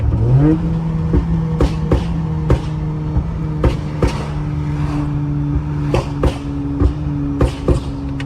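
A Toyota Camry with catless headers idles and revs with repeated sharp exhaust pops and crackles scattered throughout, loud and close.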